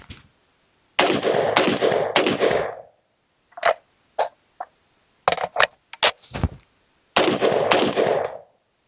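FAL rifle firing a magazine dated 1963, with three loud bursts of rapid shots near the start and end and scattered single sharp reports between, close and clear with no talk.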